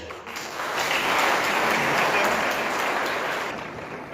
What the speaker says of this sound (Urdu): اچھا یہ تالیاں صرف الاؤنسز کے اعلان پہ ہوتی ہیں